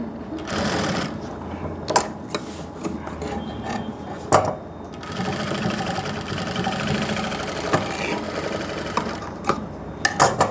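A sewing machine stitches a suit, whirring steadily in close, loud bursts broken by brief pauses and sharp clicks as the fabric is repositioned.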